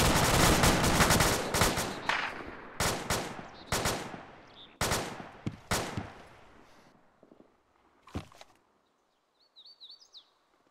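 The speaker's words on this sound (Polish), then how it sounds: "Strzały na wschodzie." Rapid bursts of gunfire during a military patrol in Shukurkalay, sharp loud volleys early then sparser single shots fading out, followed by quiet with a faint bird chirp at the end.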